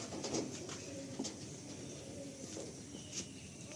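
Madrasi pigeons softly cooing in a loft, faint low murmuring calls repeating over background ambience.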